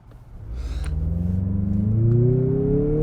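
A Mazda CX-50 Meridian Edition engine pulls hard in sport mode, its steady rumbling drone climbing in pitch as the SUV gathers speed, with no talking.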